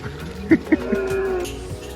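Jersey cross dairy cows on a farm let out a drawn-out low moo, with small knocks and faint farmyard noise around it.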